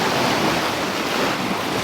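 Sea waves wash steadily onto the Northumberland shore at Lynemouth, a close, continuous rush of surf mixed with wind buffeting the microphone, and no voices.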